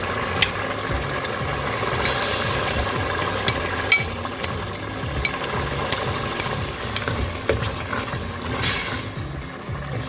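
Tomatoes hit a thickened lamb curry gravy in a pan, giving a steady close sizzle and bubbling with occasional stirring scrapes and clinks.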